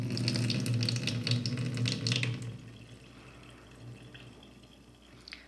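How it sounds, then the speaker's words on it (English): Tap water runs into a sink while alfalfa and arugula seeds are rinsed. A steady close splashing stream flows for about two seconds, then drops to quieter trickling and dripping. "I'm going to rinse this out."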